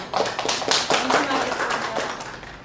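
An audience at a Buddhist lecture in a Seoul meditation center gives a brief burst of applause, dense clapping that starts abruptly and tapers off within a few seconds.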